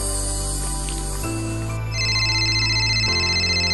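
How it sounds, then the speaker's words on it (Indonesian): A mobile phone rings loudly with an electronic ringtone for an incoming call, the melodic tone changing pitch partway through and continuing steadily alone. "Ada telepon, siapa nih?"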